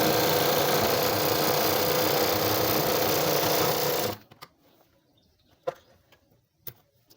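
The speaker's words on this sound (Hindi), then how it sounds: "तो चलिए इस पर आपको सिलाई लगाकर बताती हूँ।" A sewing machine runs a straight seam on a women's shirt for about four seconds, loud and steady, then stops abruptly, leaving quiet room tone with a few faint clicks.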